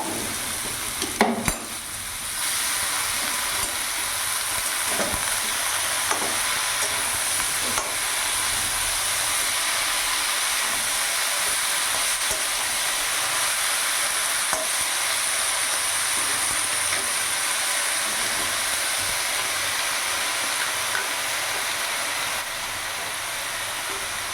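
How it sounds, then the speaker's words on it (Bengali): Spinach stems cooking with fish head and spiced vegetables in a pan give a long, even hiss of frying, broken now and then by faint clicks of a stirring spoon. "একটু ভালো করে নাড়াচাড়া করে নেব"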